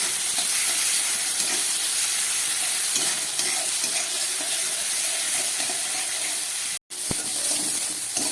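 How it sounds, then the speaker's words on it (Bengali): Small shrimp, rubbed with salt and turmeric, fry in hot oil in a kadai, giving a steady, close, loud sizzle broken by the scrape of stirring, with a brief dropout near the end. "এই চিংড়ি মাছটা নুন হলুদ মাখিয়ে নিয়েছি। চিংড়ি মাছটা ভেজে নিই।"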